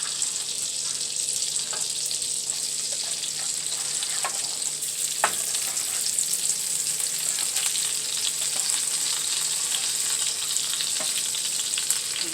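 Shrimp sizzle and fry in butter in a pan, a steady bright crackle running throughout with occasional sharper pops and light stirring clicks, no voices.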